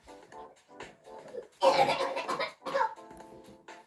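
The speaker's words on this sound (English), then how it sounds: "he's coughing." A boy coughs in a harsh, close burst, with children chattering just before and after.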